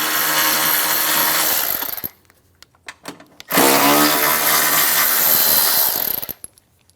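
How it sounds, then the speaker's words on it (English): A power ratchet or impact driver with a 13mm socket spinning out the two bolts on the side of the air housing of a 2007-2017 Ford Expedition, two loud whirring bursts of about two seconds each separated by a brief quiet gap with small clicks. "Using a 13mm socket, we're going to remove the 2 bolts off the side of the bottom of the air housing"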